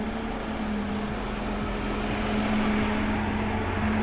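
A colleague's heavy truck passes by outside a parked Volvo FH Euro 6 2017 cab, a steady low engine drone with a sustained hum and a brief rise in hiss midway, with no talk.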